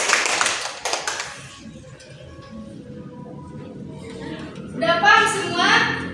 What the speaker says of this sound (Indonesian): berikan tepuk tangan kepada kita.